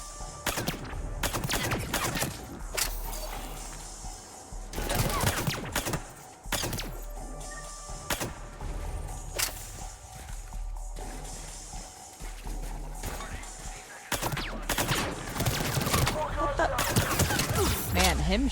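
Gunfire in the video game Mass Effect 3, repeated bursts of automatic weapon fire and sharp shots over a running soundtrack, loud and dense across the whole stretch with crashes and impacts mixed in.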